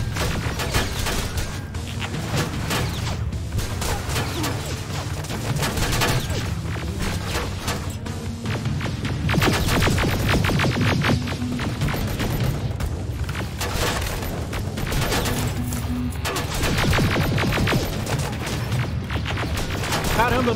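Relentless rapid gunfire and booming impacts in the PC game Terminator Resistance fill the whole stretch, loud and close, with a voice occasionally talking beneath the shooting.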